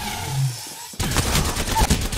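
Rapid gunfire from the Alternator submachine gun in Apex Legends, a loud sustained burst of close shots starting abruptly after a quieter moment and continuing to the end.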